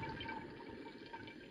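Boiled tap water pours steadily into a special filter apparatus, a continuous, fairly faint splashing and trickling that runs unbroken throughout, with no voices.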